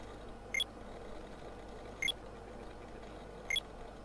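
Three evenly spaced, short high electronic beeps about one and a half seconds apart come from a house alarm in the audio game Constant Battle, sounding clear over a low steady background hum.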